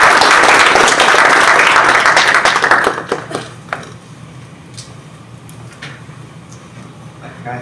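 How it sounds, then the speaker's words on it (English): Applause for the experts at an ICAI Singapore chapter start-up evaluation event: a warm round of clapping for about three seconds, then fading to a few scattered claps and room noise. "Let us give them a warm round of applause."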